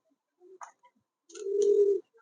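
Bombay pigeons by their eggs give a few faint short calls, then one longer, steadier coo near the end, isolated against near silence.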